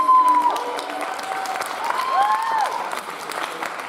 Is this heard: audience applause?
yes